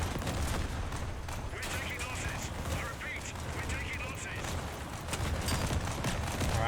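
Continuous gunfire in the Crossout vehicle combat game, dense rapid shots blending into a loud, sustained roar of weapons and engines with no pause.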